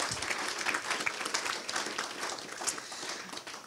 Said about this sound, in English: just another round of applause for all of our amazing speakers tonight